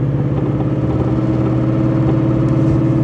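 A car engine held at full throttle against the brake in sport mode for a launch-control start, a loud, steady, sustained roar with dense harmonics that barely changes over the few seconds, with no voices.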